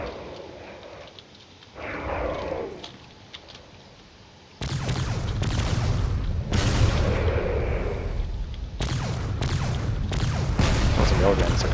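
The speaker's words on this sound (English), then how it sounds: "There's a lot of shots coming from this battleship over here." Battleship cannon fire in the space game Drone Wars: dense rumbling booms and crackling shots that swell and keep going, loud and busy, with a quieter stretch early on before heavy bursts pile up.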